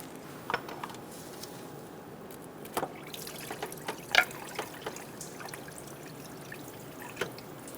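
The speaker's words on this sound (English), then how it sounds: "We're going to let this slowly drain out." Coolant drains from the opening left by a removed water pump on a 2003-2007 Honda Accord, a soft close trickle with scattered drips and small splashes, faint and uneven.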